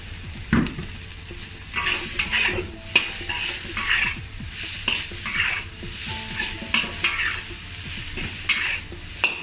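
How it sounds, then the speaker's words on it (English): Cumin beef with coriander stalk flash-fried in a wok over high heat: steady loud sizzle under repeated scraping, clanking stir strokes of a spatula against the metal, close and continuous with no talk. "Have a quick flash fry"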